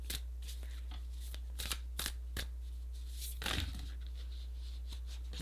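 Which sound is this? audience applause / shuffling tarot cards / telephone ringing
shuffling tarot cards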